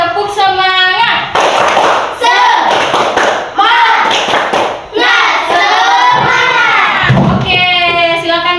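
Schoolchildren in a classroom perform a rhythmic clapping icebreaker chant, loud group voices chanting in unison punctuated by sharp, synchronized claps and thumps in a steady pattern.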